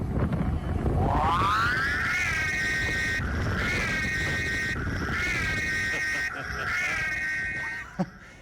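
A whooping, warbling Ghostbusters Ecto-1 novelty siren on an ambulance rises in pitch and repeats in several rising wails, loud and close, ending with a brief click.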